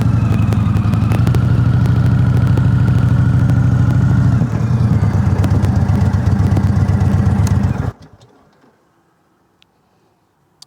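Close motorcycle engine running steadily and loudly while riding in, a continuous throaty drone with a brief dip midway, then abruptly dropping away to near silence.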